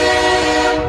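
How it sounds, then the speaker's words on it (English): A loud, sustained train horn blast with steady harmonic tones, held for under a second and heard alone at close range. "Going off the rails. The train!"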